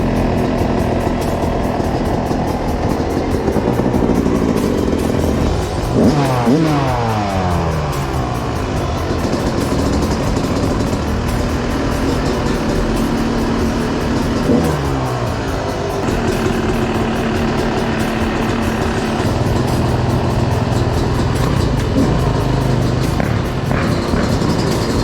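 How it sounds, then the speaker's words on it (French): Motorcycle riding in a circus ring, its mid-pitched engine running steadily throughout with a couple of revving surges near the start and middle, close and fairly loud. "Donc on se retrouve sur la moto."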